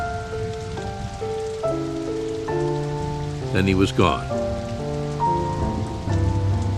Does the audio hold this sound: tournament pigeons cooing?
no